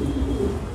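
Racing pigeons coo in a low, murmuring burst, close and moderately loud, over a brief moment.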